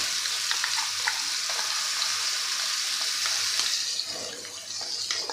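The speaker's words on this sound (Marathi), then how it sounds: "आता तेल गरम झालं की लगेचच यामध्ये घालायचं आहे आपण जी चटणी वाटून घेतलेली ती यामध्ये घालायची आहे" Ground garlic chutney paste hits hot oil in a pan and gives a loud, continuous sizzle and spatter that eases slightly toward the end.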